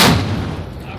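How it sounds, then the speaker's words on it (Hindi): A ceremonial cannon at the Ajmer dargah fires a single loud boom that rolls away in a fading rumble. "तोप चलने के बाद पूरे अजमेर शहर में रोज़ा खोला जाता है।"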